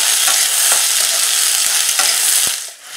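Chopped onion fries loudly in hot oil while a spoon stirs it, a bright constant sizzle broken by repeated scraping strokes against the pan, easing off at the end.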